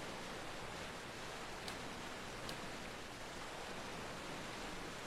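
A waterfall sound effect from an audio drama: a steady, even rushing wash of falling water that holds without break, fairly quiet throughout, with no voices.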